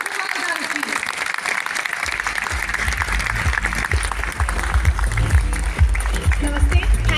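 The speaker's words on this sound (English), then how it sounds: "with a huge and a thunderous round of applause, let's welcome Sri Gopal." An audience at a special event gives a big round of applause to welcome Sri Gopal, likely Gaur Gopal Das, onto the stage. Dense clapping holds steady throughout, and low booming music thumps in underneath after the first couple of seconds.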